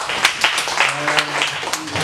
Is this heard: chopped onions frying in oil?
no